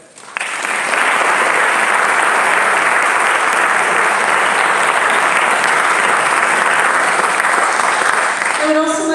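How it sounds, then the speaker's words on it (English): A crowd at a college fraternity and sorority awards ceremony breaks into sustained applause, loud dense clapping starting abruptly and continuing evenly for several seconds before a voice returns at the end. "you all deserve a round of applause for all of your hard work"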